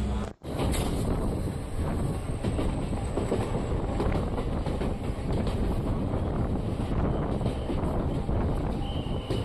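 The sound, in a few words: DEMU passenger train running on rails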